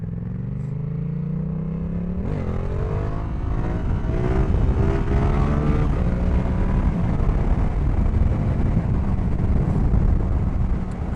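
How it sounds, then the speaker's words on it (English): A motorcycle engine revs loudly and climbs through rising harmonics as the bike is lifted into a wheelie, with a sharp surge in power partway through and sustained roaring throttle to the end. "try to do another wheelie here."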